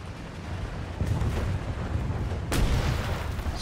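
Two heavy booms, like a tank gun firing, in a World War II battle video game involving a Tiger E tank, the second one sharper, over a continuous rumbling battlefield background.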